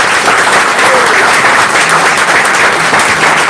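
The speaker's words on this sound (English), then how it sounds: "Give them a round of applause." Loud, sustained applause from a crowd, dense clapping filling the whole stretch without a break.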